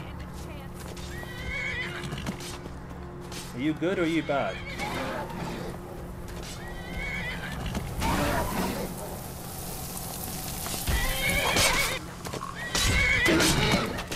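Horse in the Skyrim video game neighing and whinnying in several loud bursts while fighting, with hoof clops and combat noise around it, as someone talks over parts of it.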